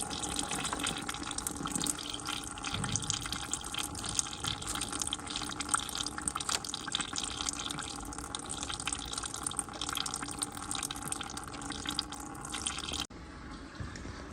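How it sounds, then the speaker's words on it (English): Coolant pours steadily from the loosened bottom hose of a Volvo D5 engine, a continuous close splashing trickle that shifts slightly and quiets near the end, with no voices. "you can loosen the bottom hose and drain it out here instead"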